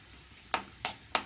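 Raisins, cashews and cloves drop into hot ghee in a pan, giving three short, sharp sizzling spurts about a third of a second apart, close and fairly loud, over a quiet background.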